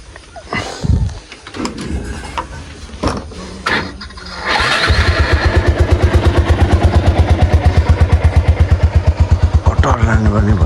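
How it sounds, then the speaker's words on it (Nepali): A motorbike engine cranks and catches after several seconds of talk and handling noises, then settles into a loud, steady, rhythmic idle as it warms up close by. "बाइक एकछिन तताउनु पर्ने हुन्छ।"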